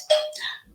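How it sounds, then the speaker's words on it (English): A single short doorbell chime rings, a bright two-tone ding that fades quickly. "That's my doorbell."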